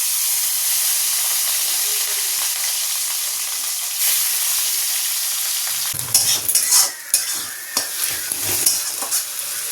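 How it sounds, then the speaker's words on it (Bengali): Steady loud sizzling of onions and green chilies frying in hot oil in a wok, then clattering stirring and scraping of a spatula in the pan over the continuing sizzle. "পেঁয়াজ কাঁচা লঙ্কা ভাজছি আর কি, মাছের ঝালটা করবো বলে"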